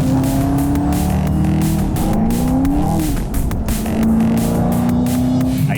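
A 650 hp Chevrolet Camaro ZL1 accelerates hard on a military airstrip track, its engine roaring loud and close with rising revs and gear changes while the tires squeal and spin on the asphalt.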